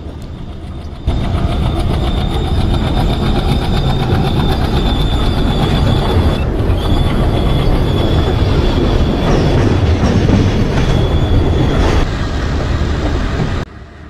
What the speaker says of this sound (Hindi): क्रॉसिंग वाली ट्रेन निकल जाती है।